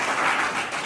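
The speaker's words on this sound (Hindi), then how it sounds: "प्रभु के लिए जोरदार ताली बजाएंगे।" A church congregation breaks into loud, dense applause for the Lord during a sermon on baptism, a close, steady wash of many hands clapping with no talk over it.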